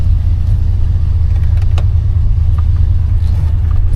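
1984 Chevy Monte Carlo engine idling, a loud steady low rumble close up with no clear revving.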